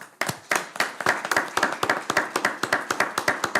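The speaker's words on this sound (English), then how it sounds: "let's give them a round of applause" Brief, close, fairly sparse applause at a city council meeting, with a small group of hands clapping in an uneven rapid patter for a few seconds.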